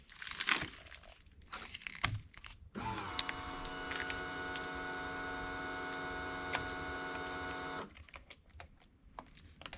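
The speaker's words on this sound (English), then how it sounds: "Fuel pump is primed." A Honda CRX fuel pump in a K24A2-swapped AWD fuel system primes with a steady, close electric whine that runs about five seconds and then cuts off, with faint handling noises before and after.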